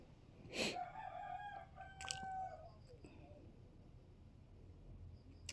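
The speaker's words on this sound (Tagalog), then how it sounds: "Tuktugaok ang manok na." A rooster crows once, loud and close, with a rising then long drawn-out call over quiet background noise, followed by faint ambient sounds.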